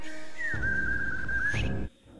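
A sharp signal whistle from a character in the animated series Avatar: The Last Airbender, one long sustained tone with a rising start and end, loud and close, over a low background rumble.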